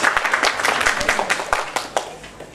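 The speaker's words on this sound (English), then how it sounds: "Big round of applause to Siri." Audience at a Malayalam movie press meet giving a brief round of applause, scattered uneven claps with some chatter underneath, fairly close.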